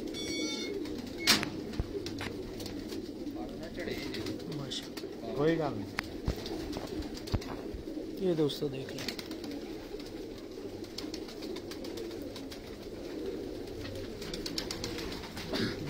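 Breeder pigeons coo repeatedly in the background, soft throaty calls recurring while someone talks over them.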